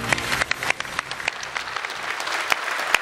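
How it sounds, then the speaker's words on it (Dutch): An audience at the Limburg Export Award 2016 ceremony claps steadily throughout, dense and continuous applause with a few sharper claps standing out. "Applaus voor 10 hele mooie bedrijven."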